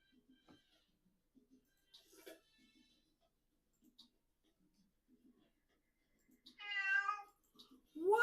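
A pet cat gives one clear, drawn-out meow near the end, close and distinct against quiet background ticks and faint clicks.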